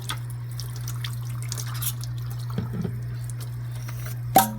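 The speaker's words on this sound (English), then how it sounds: "And now I'm going to fill this up with water" Water trickles and drips softly from a tap into an emptied eggshell over a steady low hum, with a few small clinks near the end.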